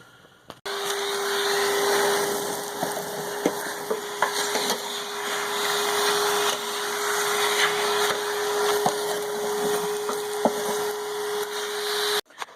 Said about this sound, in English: now we're going to take the vacuum and we're going to vacuum around here